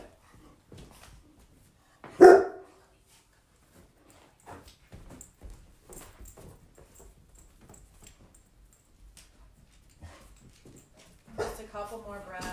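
Dogs bark at home during an online yoga class, one sharp bark early on and a further burst of yelps near the end, heard among a calm instructor's spoken cues.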